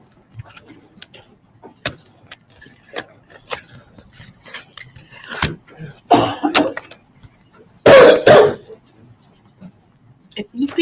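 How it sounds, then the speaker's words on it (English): Scattered coughs and throat clearing from several people in a quiet courtroom, some close and loud, others faint, with brief murmurs of talk in between. "If these people don't stop coughing in my ear."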